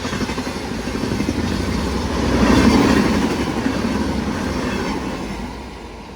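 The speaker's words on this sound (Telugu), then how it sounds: "సో హై స్పీడ్ ఓవర్టేక్ అవుతుంది మన జన్మభూమితో." The Janmabhoomi Express overtakes at high speed, its rushing roar and rattle of wagons building to a loud peak mid-pass before fading, heard from an adjacent moving train with no talk.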